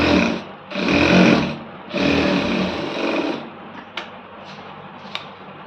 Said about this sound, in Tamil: இதை மடித்து ஒரு படிமான தையல் போட்டுருங்க.